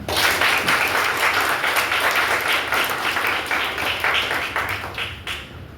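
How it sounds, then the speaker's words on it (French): Steady applause from an audience at an anniversary celebration of a workers' union, dense sustained clapping that fills the room at a loud level and tapers slightly toward the end. "On applaudit."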